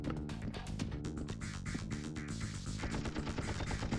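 Rapid bursts of gunfire from the video game Apocalypse, dense and loud throughout, layered over a busy game soundtrack with steady rhythmic repetition.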